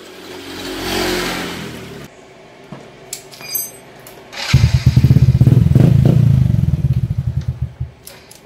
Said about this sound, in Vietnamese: Bây giờ mình tiến hành mình sẽ đề máy thử coi bô cái tiếng nó lớn hơn nãy không ha.